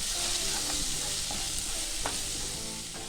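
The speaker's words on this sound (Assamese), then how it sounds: "আকৌ লৰাই দিম" Frying masala for pointed gourd curry, stirred after a spoon of ghee goes in: a bright, continuous sizzle with a few sharp spoon scrapes against the pan, close and alone.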